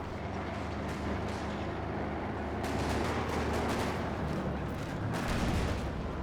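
Gunfire and tank cannon shots ring out in a Company of Heroes 2 battle with a Panzer IV, a dense continuous rumble of battle noise punctuated by sharp blasts.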